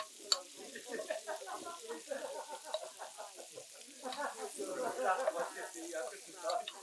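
Pheasant pieces fry in frothy butter in a pan, giving a soft crackling sizzle that swells and fades, heard under someone talking.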